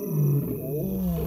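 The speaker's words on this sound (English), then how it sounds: "a male lion calling his intentions" A male lion roars at night, a deep, loud, sustained call with a rumbling, throaty quality, close and alone with no other sounds around it.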